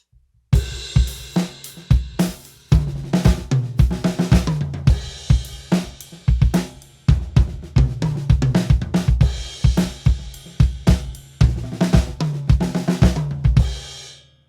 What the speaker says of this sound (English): You can use more bass drum like this.